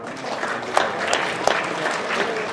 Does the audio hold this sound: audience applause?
yes